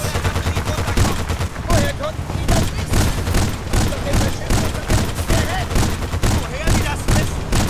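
Sustained heavy gunfire in Battlefield Bad Company 2, with rapid automatic bursts and occasional booms in a chaotic firefight near enemy vehicles, loud throughout with voices mixed in.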